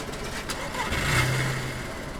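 Car in the DayZ video game pulling away, a brief mid-pitched engine rev that rises and fades over about two seconds under a noisy background.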